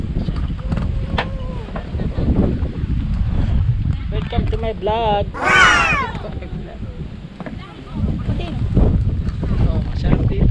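Strong wind buffets the microphone at a roadside view deck along the Marilaque–Infanta road, a steady rough rumble under people talking, with a whistling gust midway.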